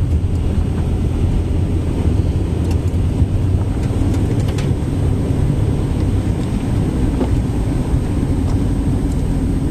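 Steady broadband rumble of a car cruising along a road through Fraser Canyon, constant engine and road noise close by with no break or talk, holding level throughout.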